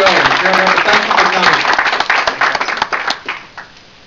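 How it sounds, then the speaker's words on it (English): A loud round of clapping and applause from a fundraiser crowd in Stratford greets congressional candidate Wayne Winsley, with voices mixed in, building briefly and then tapering off over the last second. "Give him a lot of applause. Very loud round."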